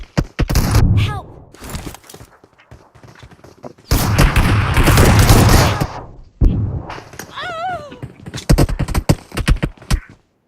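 Gunfire in a 2v2 shooter video game, with sharp shots and bursts coming in loud clusters, including long rapid volleys, separated by brief quiet gaps, while voices shout between shots.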